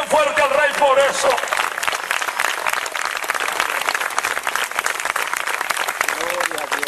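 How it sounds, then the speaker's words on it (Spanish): Loud applause from a church congregation during a Spanish-language sermon, dense clapping throughout with shouting and a voice over it at the start and end. "denle una ofrenda de aplauso bien fuerte al Rey por eso."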